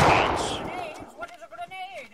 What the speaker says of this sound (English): Be careful of the cannon fire!